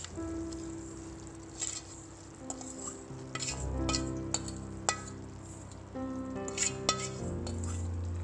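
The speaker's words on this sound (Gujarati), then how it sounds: "હવે આપણે આ ચૂરમું એડ કરી દઈશું." Churma being mixed into hot ghee in a pan with the heat off, a quiet bed of tonal background hum under intermittent spoon clinks and scrapes against the metal, close, no voices.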